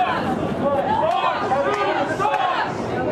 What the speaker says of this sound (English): a loud and very boisterous crowd. You'll start hearing them start up here